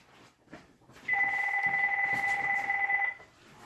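A phone rings once, a bright two-tone electronic trill lasting about two seconds, close and clear in a quiet room after a brief murmur.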